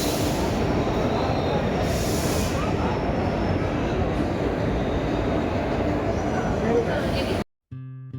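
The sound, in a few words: Dhonodhanne Express train stopping at Palashi station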